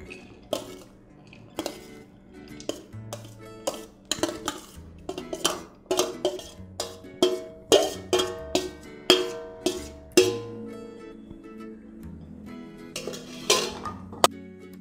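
Metal vessels and a ladle clank and scrape as freshly made sweet boondi is moved into another pot. Uneven knocks and clinks ring out close by, with soft rustling of the boondi between the strikes.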